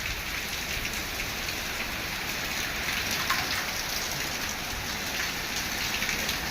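Steady, dense rain roars without a break, a very heavy continuous downpour in Porbandar, Gujarat, with no voices.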